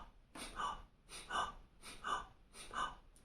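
Four slow, even breath cycles sound close to the microphone, each a breathy exhale through the nose followed by an inhale through the mouth, with short soft pauses between them and no speech.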